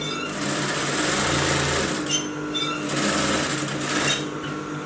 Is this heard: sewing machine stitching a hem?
yes